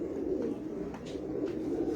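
A pair of pet pigeons cooing close by, soft low repeated coos in a gentle rolling rhythm with faint background noise and no talking.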